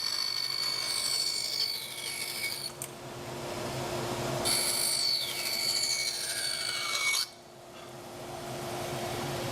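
A bandsaw fitted with a crosscut sled trims small wooden splines, two close cutting passes with a whining, rising tone over the machine's steady hum, then the blade noise drops away as the motor keeps running.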